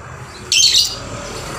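Young balibu lovebird giving one short, sharp burst of high chirping, close and clear against a quiet background.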